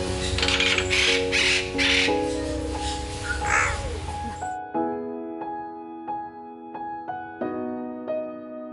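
Loud harsh crow-like caws and squawks ring out over steady hum at a bird park in Sri Lanka, then rhythmic mechanical ratcheting clicks repeat for several seconds.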